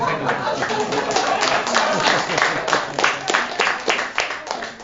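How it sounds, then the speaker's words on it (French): An audience applauds after a presentation in a hall, a sustained wash of many hands clapping, close and fairly loud, with a voice speaking over the clapping. "On l'applaudit"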